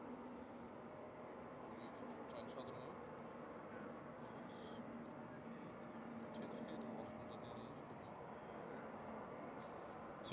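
Xiamen Air Boeing 787-8 heavy jet taking off from Schiphol Airport's runway 36L, a steady broadband engine roar holding level throughout at moderate distance, with faint higher tones and intermittent crackle.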